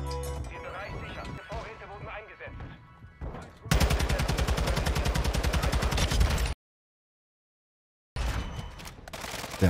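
Gunfire crackles in the video game Call of Duty: Modern Warfare 2 (2022) as a dense, sustained burst of rapid automatic shots, broken by a sudden silent gap and followed by more shots, after stretches of spoken commentary.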